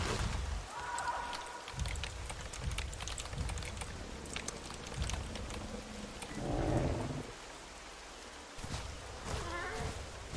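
Rain falling in the dinosaur survival game Carno on a hunting-grounds server, a steady hiss of rainfall throughout with occasional low thuds and other game sounds, partly under a voice.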